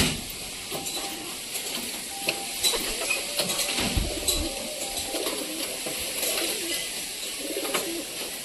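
Pigeons leaving their cage, soft repeated cooing and fluttering calls scattered over eight seconds, close and moderate in level above a faint hiss of background noise.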